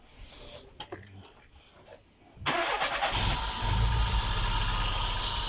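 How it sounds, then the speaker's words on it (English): An Opel Corsa B with a 1.3 NE engine cranks briefly with some clicks, then fires and settles into a loud, steady close idle. "I'm going to start the vehicle."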